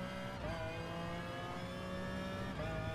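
A McLaren F1 GTR BMW race car engine in Gran Turismo Sport, droning steadily at high revs with a rich, harmonic tone and a couple of brief pitch dips around gear changes, loud and close with no talk.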